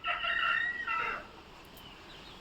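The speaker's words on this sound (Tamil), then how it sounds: "இந்த கோழிங்கெல்லாம் வந்து சண்டை கோழிங்க." A fighting rooster crows once, fairly close and clear, the call lasting about a second before fading into quiet outdoor background.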